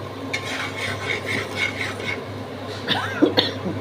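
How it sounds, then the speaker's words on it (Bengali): A person coughs a few times near the end while cooking a spicy fish curry, with steady stirring and utensil scraping in a pot underneath. "একটু কাশি আসছে"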